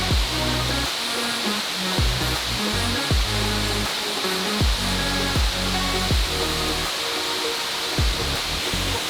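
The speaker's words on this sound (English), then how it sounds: "You hear the water the entire time." Water rushes down cascades right beside a steep White Mountains hiking trail on the Appalachian Trail in New Hampshire, a loud continuous roar with low, irregular bumps from nearby activity underneath.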